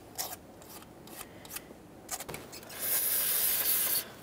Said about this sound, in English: Make sure we're scraping away from the ports.